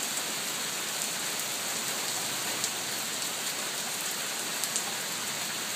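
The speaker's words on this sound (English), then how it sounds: "Lexi, get out of the rain" Steady, dense rain falls during a May storm as a gust front moves through, a continuous close hiss of drops on surfaces with no voices.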